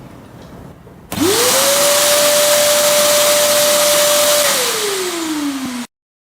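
A Karcher WD2 Plus wet and dry vacuum cleaner with a crevice nozzle runs in blower mode, starting abruptly into a loud steady whine and rush of air, then winding down in pitch before cutting off.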